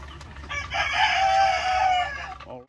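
Barred Rock laying hens on a free-range farm cluck and call steadily for a couple of seconds, a loud drawn-out vocal swell rising in the middle and fading at the end, with no talk over it.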